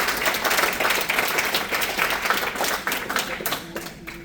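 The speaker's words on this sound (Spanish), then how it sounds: "Un fuerte aplauso" A congregation at a Spanish-language church sermon gives a hearty round of applause, loud and dense clapping that thins slightly toward the end, with a faint sustained tone briefly appearing at the close.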